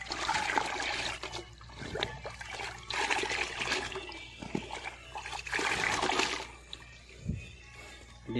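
Liquid organic fertilizer of Jakaba and eco enzyme being stirred in a container, sloshing and trickling water in repeated swirling bursts, close and moderately loud, no talking.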